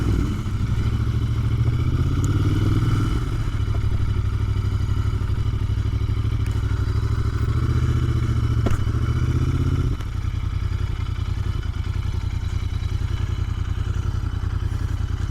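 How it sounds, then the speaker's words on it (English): A Royal Enfield Interceptor 650 Mk 2 motorcycle engine runs with a steady, deep, throbbing rumble, loud and close, swelling briefly early on and dropping slightly after a shift near the end, with occasional mechanical clicks. "Incredibly good sounding motorcycle."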